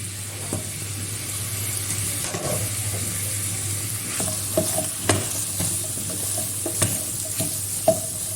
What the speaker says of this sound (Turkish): Kavrulan kıymaların üzerine soğanları, biberleri ekliyorum.